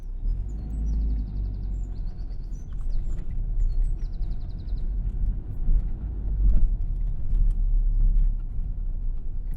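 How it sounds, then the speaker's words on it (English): A car drives along a trail with a low, steady engine rumble and road noise, fairly close, while birds chirp faintly in the background. "Let me start driving a little further."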